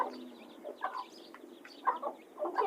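A chicken clucks nearby in a few short, soft bursts separated by brief pauses, with no one speaking.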